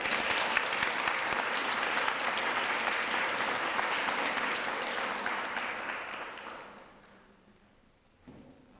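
An audience at a Citizens of the Year ceremony honouring student citizens breaks into sustained, dense applause that carries evenly for several seconds, then thins and fades, ending with a final isolated clap.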